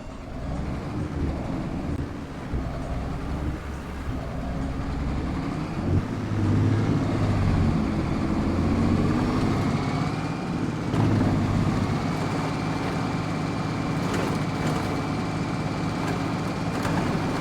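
An Ursus tractor engine in Farming Simulator 22 drones steadily and loudly, its pitch rising and settling as it revs, with a continuous mechanical hum throughout.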